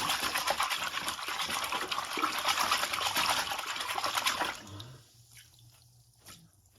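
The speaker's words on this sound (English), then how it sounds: "Let the water go through there repeatedly." Water swishing and splashing through plastic Xbox 360 console parts during a rinse, a steady rushing gush that cuts off abruptly, leaving faint drips and light handling sounds.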